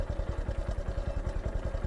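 A motorcycle on a rural village track in Rajasthan runs at a steady low idle or slow pace, with a rapid, even engine thump that holds for the whole stretch and sounds close by, with no voices.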